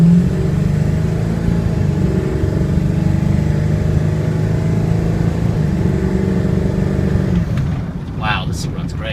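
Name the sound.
2001 Ford F250 diesel truck driving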